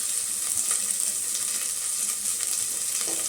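Onions and curry leaves fry in hot oil for sambar, giving a steady close sizzle with faint stirring scrapes across the few seconds.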